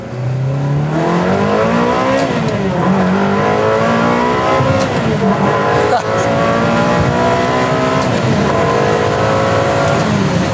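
Loud Ferrari 360 engine revving hard through first to third gear to 8,500 RPM, pitch climbing then dropping at each shift, three rising pulls in sequence, close and continuous with a voice faintly underneath.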